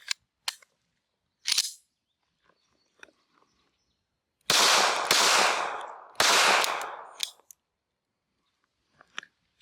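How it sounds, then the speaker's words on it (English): Rapid shots from a SCCY CPX-2 9mm pistol ring out near and loud, two sharp isolated cracks followed by two long dense bursts of firing with short gaps, then a few faint clicks of handling. "So let's shoot one more mag here."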